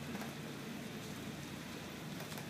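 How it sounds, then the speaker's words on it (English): Steady rain pours down during a winter storm with thunder around, a constant dense hiss of falling water with no voices, close and continuous throughout. "I'm going to wait for the rain to completely stop before I go outside"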